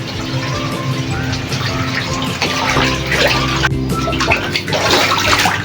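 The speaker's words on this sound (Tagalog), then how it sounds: "Dahil papatuloy na ako ng tubig sa CR sa kabila." Water runs steadily from a tap with a continuous splashing hiss, fairly close, with clattering and background household sounds throughout.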